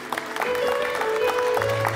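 Applause at a wedding banquet: a steady wash of clapping from a crowd, fairly loud and continuous across the whole moment, with a sustained tone running underneath.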